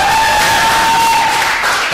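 Computer-generated crowd cheering and applause at a cricket show, a steady wash of noise throughout with a faint sustained tone running underneath.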